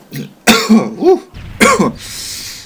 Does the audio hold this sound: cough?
yes